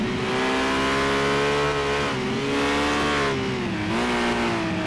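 A V8 supercar engine in a racing video game drones loud and steady for several seconds, its pitch dipping and climbing with gear changes and throttle lifts, with no talk over it.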